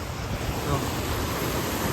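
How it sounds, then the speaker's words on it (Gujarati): Fast-flowing river with a strong current over slippery, moss-covered rocks, a steady broadband rushing roar, close and continuous without a break. "કેટલો વેગ છે જોઈ લો નદીનો"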